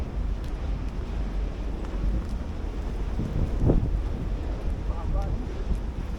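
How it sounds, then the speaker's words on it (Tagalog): Strong wind buffets the microphone at a rocky beach near the Bangui wind farm in Ilocos Norte, a constant low rumbling gust with faint surf underneath and a brief voice partway through. "Lakas ng hangin."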